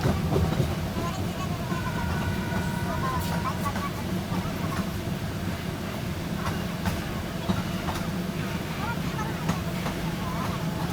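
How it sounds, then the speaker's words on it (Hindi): A loud, steady rumble comes from inside a moving sleeper coach as the Kamla Ganga Intercity Express passes at a Patna–Jaynagar crossing, with faint clickety-clack of wheels and voices talking over it. "Kamala Ganga intercity express Patna Jaynagar crossing"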